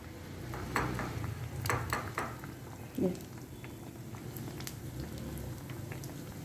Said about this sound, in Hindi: मज़ेदार हमारे आलू फ्राई हो रहे हैं, क्रिस्पी और क्रंची